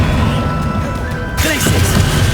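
A Bombarda blasting spell explodes in Hogwarts Legacy, a loud crashing burst that lands over steady battle din and a low background rumble, followed by a brief ringing tail.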